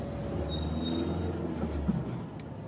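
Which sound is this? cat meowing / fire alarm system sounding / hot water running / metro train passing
metro train passing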